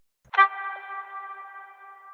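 A single filtered car horn blast drenched in reverb rings out and sustains in a long, steady tonal tail that slowly fades.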